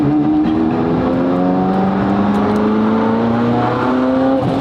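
A Liberty Walk Ferrari F40 driven on roads in Japan, its engine droning loud and close from inside the car with steady harmonic tones slowly rising and falling as it pulls through the gears.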